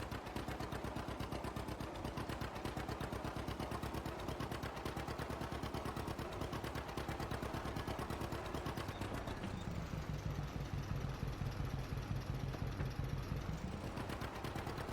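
A tractor engine in Farming Simulator 22 runs steadily and close, with a dense low rumble and a shift in tone partway through as it changes gear.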